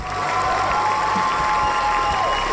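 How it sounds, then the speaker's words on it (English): Loud, dense applause from a large crowd, steady throughout with cheering and whistles mixed in. "Paul, can we have some raucous applause?"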